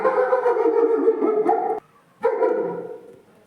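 A dog lets out two long, drawn-out barks close by, the first sustained and the second fading, with a short pause between.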